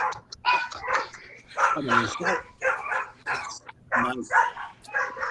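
Several dogs at a kennel bark repeatedly, with yips and whines close by, in an uneven volley that mixes with someone talking.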